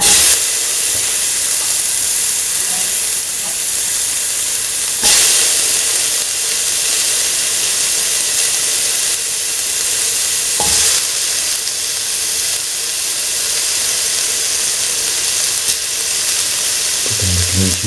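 Tomato pieces frying in a pan for an okra chickpea coconut milk stew, a loud steady hissing sizzle heard up close, broken by a couple of brief clatters and a utensil knock at the end.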